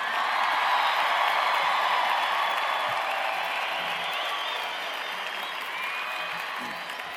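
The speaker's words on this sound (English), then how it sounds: "One more round of applause for all the graduates." Sustained applause from a large crowd of graduates and guests at a university communication college convocation, dense and steady with a few scattered whoops, tapering slightly toward the end.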